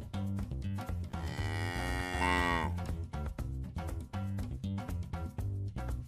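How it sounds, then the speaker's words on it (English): A single long cow moo rises and falls near the start, set against loud, steady background music with a regular beat. "Cows from different regions have different moo accents."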